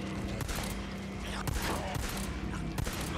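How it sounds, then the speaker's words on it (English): Gunfire in the video game Days Gone crackles in rapid, irregular bursts, fairly faint and dense, over a busy game soundscape. "Okay, I'm gonna shoot what I can."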